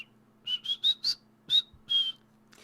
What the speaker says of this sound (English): whistling a military tune